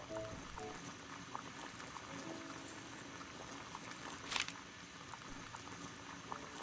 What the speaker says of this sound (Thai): เขาเดือดแล้ว